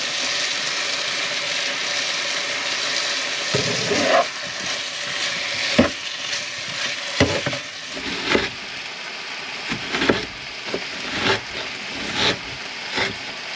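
Garlic and thyme fry in a pan at a truck campsite, giving a steady close sizzle with occasional utensil clinks and stirring scrapes, no talking.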